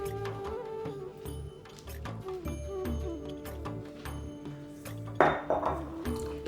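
Chicken malai tikka marinade is stirred in a bowl, with a utensil scraping and clinking against the dish in an irregular rhythm, fairly close, ending in a sharper burst of clatter.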